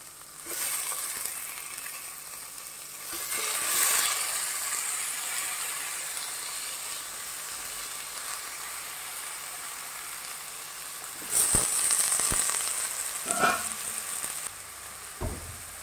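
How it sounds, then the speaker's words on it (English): Breadfruit pieces hitting a hot pan of Goan coconut curry caldine, giving a steady close sizzle and frying hiss with brief stirring clatters and louder bursts near the end. "Now we'll add the breadfruit."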